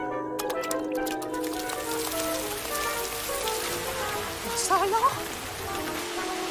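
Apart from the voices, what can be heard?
rain falling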